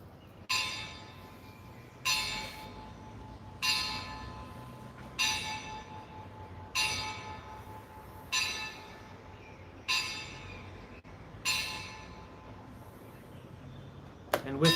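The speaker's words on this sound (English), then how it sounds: "quite apt sound of the bell" A bell strikes eight times at a steady interval of about one and a half seconds, each ring clear and resonant and decaying before the next, in an otherwise quiet room.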